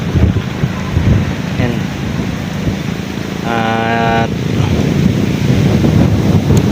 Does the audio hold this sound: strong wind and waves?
yes